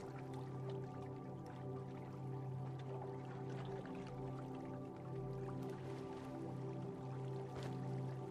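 Water drains away in a Minecraft game as the level drops: a soft, continuous liquid trickle with faint drips, quiet and steady under a low droning background hum.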